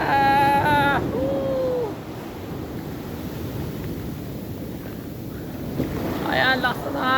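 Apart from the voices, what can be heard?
large ocean waves crashing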